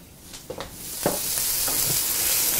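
Ingredients sautéing in a pan after a touch of salt is added, a steady close sizzle building and holding with a few brief stirring clicks and scrapes, no voices.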